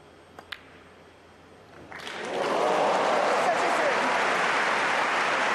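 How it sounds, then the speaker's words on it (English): A Hong Kong snooker crowd at the World Grand Prix final reacts after a couple of faint clicks, a rising murmur swelling into sustained, dense applause that fills the room. "Gasps of admiration from this Hong Kong crowd"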